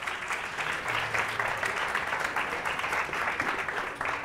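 Studio audience applauding contestants on a Catalan spelling quiz show, a steady wash of clapping at moderate level throughout.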